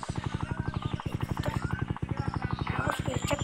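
A helicopter in the video game Dude Theft Wars beats with a fast, steady rotor thump, constant and close, while someone talks throughout.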